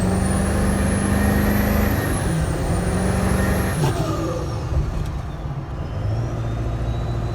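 High turbo whine from a 7.3 Powerstroke diesel with a GTP38R turbo, heard inside the cab: a loud steady whistle that holds, dips and climbs again before falling away, riding over the deep, continuous rumble of the engine.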